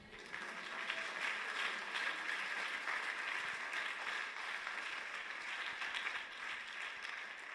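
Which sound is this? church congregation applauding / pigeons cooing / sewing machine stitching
church congregation applauding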